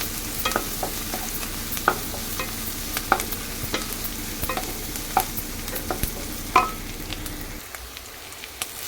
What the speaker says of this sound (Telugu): ఇట్లా మనము కలుపుతూ ఉంటే ఉల్లిపాయ ముక్కలు కూడా వేగిపోతాయి అన్నమాట